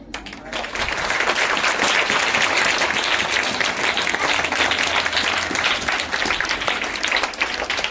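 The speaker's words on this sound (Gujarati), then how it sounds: "બેનના હાથે જ્યારે ધ્વજવંદન થાય ત્યારે આપણે સૌ તાળીઓથી વધાવીશું" A crowd at a school flag hoisting ceremony breaks into loud, dense applause that starts abruptly and stays steady and close throughout, with no speech over it.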